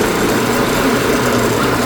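A motorbike climbs a mountain road toward Tinchuley in first gear, its engine a steady, close, unbroken drone with a buzzy edge throughout and no voices.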